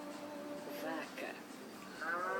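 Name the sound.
cow mooing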